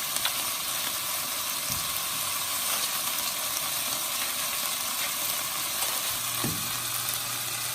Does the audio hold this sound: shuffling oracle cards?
no